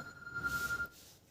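A telephone rings with a short burst of rapid electronic bell trills, one ring cycle alone in a quiet room.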